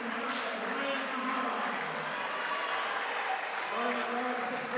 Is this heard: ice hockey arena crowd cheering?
yes